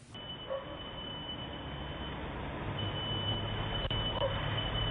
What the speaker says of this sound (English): I could hear a beeping sound in the background.